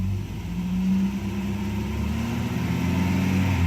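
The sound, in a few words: Mercedes 190E natural gas converted engine revving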